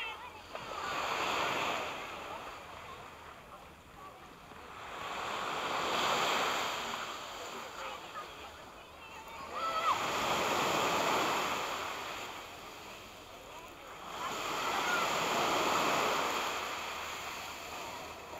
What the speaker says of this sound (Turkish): Deniz böyle.